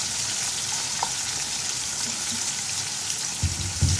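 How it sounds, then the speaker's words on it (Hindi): Tomato puree and ginger-garlic paste masala frying in a pan for dhaba-style chana dal, giving a steady, dense close sizzle like patter with a couple of louder stirring bumps near the end. "अब इस मसाले को भूनेंगे"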